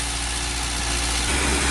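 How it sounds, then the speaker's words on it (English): A Fiat Talento 1.6 dCi diesel van engine runs with the pressure held up by the accelerator, a loud, steady rumble with a broad hiss that grows slightly rougher near the end, and no talking. "So the engine running, we're getting the fluid in here into the O2 sensor."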